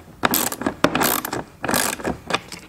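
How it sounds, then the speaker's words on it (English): A Craftsman hand ratchet clicks through several quick bursts of turning while installing factory fog lights on a Volvo, crisp and close, with short pauses between strokes. "love this ratchet. It's a Craftsman."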